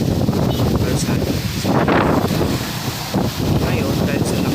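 Strong gusty wind along a roadside by tall coconut palms buffets the microphone in loud, rolling roars that swell and ease, with a hiss like distant surf underneath.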